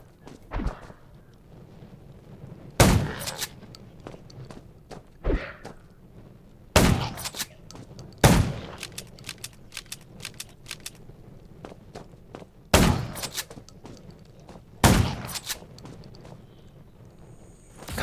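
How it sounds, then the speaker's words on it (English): Scattered loud gunshots in the video game Undawn, single and in short pairs, ring out irregularly between quieter stretches of faint thuds and movement. "Gunshots."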